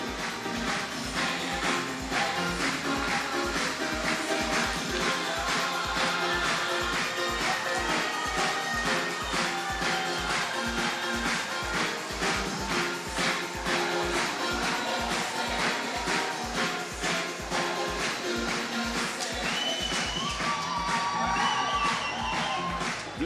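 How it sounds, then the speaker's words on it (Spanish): Applause and cheering fill a championship arena without letup, a dense roar of clapping and shouting voices that stays loud and steady from start to finish. "Aplauso una vez más a vitorear por Furre y Arend."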